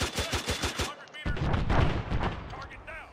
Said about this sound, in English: we're kind of taking some shots from B